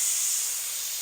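Air rushes out of a truck tire on an OBS Chevy through the open valve with the stem removed, a loud, steady close hiss that holds constant and alone.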